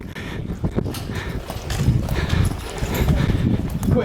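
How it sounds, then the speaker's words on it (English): Horse hooves clip-clopping in a steady walking rhythm at close range, with some background noise and faint voices. "Quit hitting that damn horse."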